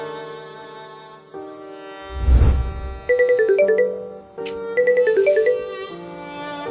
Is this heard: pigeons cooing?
no